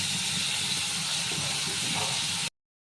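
A steady, broadband hiss of jackfruit seeds with green chillies sizzling and sautéing in an oiled pan, continuous and fairly close, cutting off abruptly near the end.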